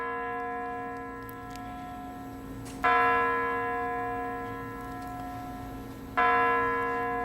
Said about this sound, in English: Just hear those chimes going